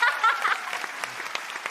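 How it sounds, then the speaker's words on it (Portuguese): A studio audience claps steadily for a couple of seconds on a Brazilian TV variety show, dense and continuous applause with a light voice or chuckle underneath. "Uma salva de palmas"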